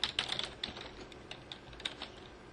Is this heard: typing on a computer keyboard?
yes